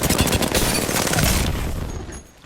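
Rapid automatic gunfire from the video game Apex Legends during recoil practice, a loud, dense burst that holds steady for about two seconds and then cuts off, leaving a fading tail.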